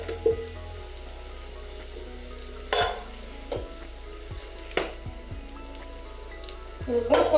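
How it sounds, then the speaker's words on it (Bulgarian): A spoon stirs tomato puree into sautéed onions and mushrooms in a pan for pasta sauce, a gentle sizzle under scattered scraping knocks against the pan. "Разбърквам много добре."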